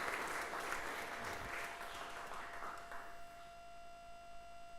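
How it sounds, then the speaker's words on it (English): Audience applause at a live creative-week event fills the room with dense, steady clapping that gradually thins toward the end, with a faint electrical hum lingering underneath. "Should give Matt a round of applause for that."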